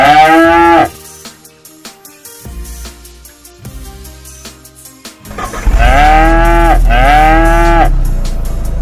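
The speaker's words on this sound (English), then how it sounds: "C is for cow." A cow moos loudly and close by, one long call at the start and another drawn-out, deep moo later, with quieter farmyard rumbling in between.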